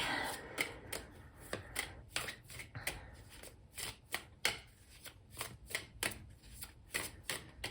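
Tarot cards are shuffled up close in a quiet room, sharp papery riffles and slaps in irregular short bursts, roughly one or two each second.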